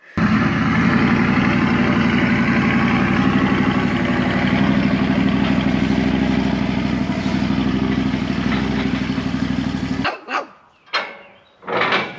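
A 1995 6.5L turbo diesel engine runs with a steady, loud, droning rumble for about ten seconds, then cuts out, followed by a few sharp dog barks.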